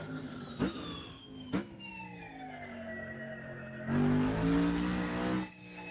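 A race car circulating the 2025 layout of the Thermalito track in Assetto Corsa, engine revving and shifting with a couple of sharp bumps, then a louder sustained surge, near and without talk.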